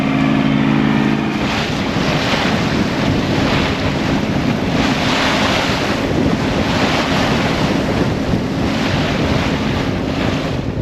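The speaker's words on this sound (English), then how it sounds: "I think the wind is just barreling straight through this channel opening" Strong wind gusting through a channel on a sailboat, roaring over the microphone with waves washing against the hull, loud and continuous.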